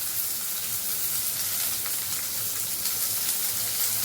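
Tomatoes and chutney ingredients fry in a pan for dosa chutney, giving a steady, dense sizzle with continuous crackle and no pauses.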